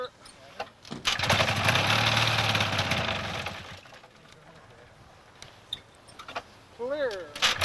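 A paramotor engine warms up before flight, its loud buzzing drone swelling for a few seconds and then dropping back to a low idle. A voice is heard near the end.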